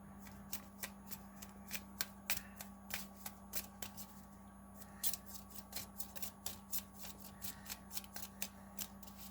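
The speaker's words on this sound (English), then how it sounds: "Let's just reshuffle that." A deck of Magic: The Gathering cards being riffle-shuffled over and over, a quick string of crisp riffling bursts and soft taps close by, with a steady low hum underneath.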